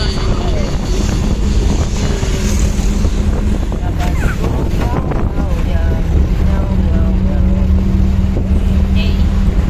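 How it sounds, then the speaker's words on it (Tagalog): Strong wind roars steadily around a moving boat, mixed with rumbling engine and water noise throughout; voices talk intermittently over the blustery din. "So windy."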